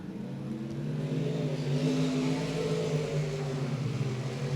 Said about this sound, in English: as Connor Stewart making his way down the backstretch